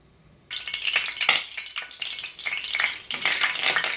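Oil crackling and sizzling loudly in a karahi pan over a stove fire while Shinwari chicken karahi is being prepared, a steady bright fry with bursts of spitting and no talk.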